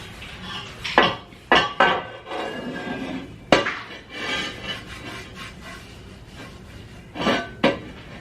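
Cloth scrubbing around the inside of a cast-iron Dutch oven pan during cleaning, with a steady close rubbing scrape broken by several sharp metallic clanks and knocks as the pot shifts and rattles.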